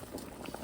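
Potatoes bubble in a pot of boiling water, a brief close burst of churning, popping bubbles.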